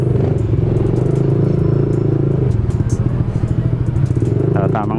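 A Honda Click 160 motorcycle fitted with a new dual-tip exhaust idles and burbles close by with a low, pulsing rumble throughout, as people talk over it.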